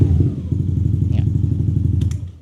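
A modified Yamaha Aerox 155 scooter fitted with a TB downdraft 32 carburetor and aftermarket exhaust, revving with a close, loud, throbbing low burble that pulses rapidly and then tapers off at the end.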